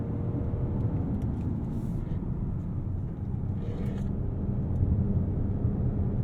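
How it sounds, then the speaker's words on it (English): Kia Telluride V6 engine pulling through the upper rev range while driving, a steady loud low rumble of engine and road noise with no talk. "As you get to the higher part of the rev range, the V6 moves from lazy to alert."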